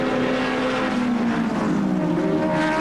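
Ford Sierra touring car racing over a hill at Wanneroo, its engine a steady loud drone with a sliding pitch as it powers through, heard alone without talk.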